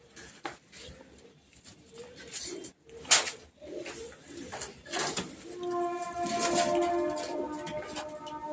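Pigeons coo softly in a low, rounded murmur at a racing loft, mixed with scattered taps, shuffling and brief background voices, with a tonal hum entering toward the end.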